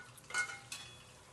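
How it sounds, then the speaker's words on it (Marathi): Stuffed eggplant sautéed in oil and stirred in a pan, giving a couple of brief, faint scraping and sizzling bursts over a quiet background. "थोडंसं याला तेलामध्ये परतून घ्यायचं, कमीत कमी 2 मिनिटं"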